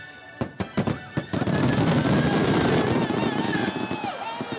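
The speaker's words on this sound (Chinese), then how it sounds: "长达9分9秒的烟火秀吸引了成千上万的民众聚集在码头边" A fireworks show at Tamsui Fisherman's Wharf on a Mid-Autumn holiday night opens with a quick run of sharp bangs, then a dense, sustained crackle of bursts blends with the noise of a large gathered crowd.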